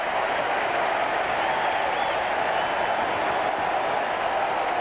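A huge crowd of about four million cheers and applauds astronaut John Glenn during a confetti-filled New York City parade, a dense, steady roar of clapping and shouting that holds level throughout.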